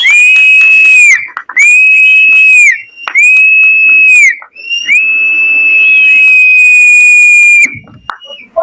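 Loud, piercing whistling by a person at a song launch event, in four long sustained blasts separated by short gaps, the last held longest, with no talk over it.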